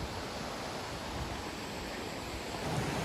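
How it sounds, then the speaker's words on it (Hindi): Fast-flowing water at Sajla Waterfall near Manali, a steady broadband roar of rushing torrent, constant and enveloping with no voices. "देखो कितना तेज़ पानी का बहाव और बहुत ही ब्यूटीफुल लोकेशन है"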